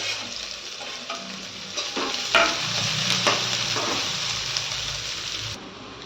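Chopped onion sautéing in a pan for Marathi palak sabzi, with a continuous loud sizzle and intermittent stirring scrapes, the frying cutting off abruptly near the end.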